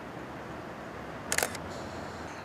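A single-lens reflex camera fires one crisp shutter release at aperture f/2.8, a brief mechanical clack that stands out against a quiet hissy background, with no one talking.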